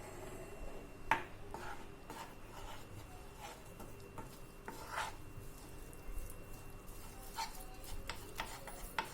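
Maida flour being stirred and fried in hot ghee, a steady background sizzle with scattered clicks and scrapes of a utensil against the pan, close and moderately quiet.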